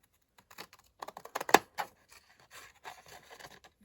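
Thinning hairdressing scissors snipping through card for steampunk tags: a quick cluster of small crisp snips and rasping cuts, one sharper clip standing out, then softer scattered cutting sounds, close and quiet with no talking.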